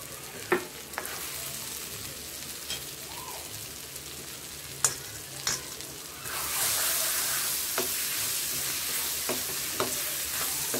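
Ivy gourd masala sizzles and fries in hot oil while being stirred, a steady close crackle with occasional utensil taps that grows louder and denser partway through; no one speaks.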